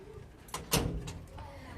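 A house door is pushed shut nearby with a soft thud and a brief clatter of the latch, followed by faint rustling and room noise.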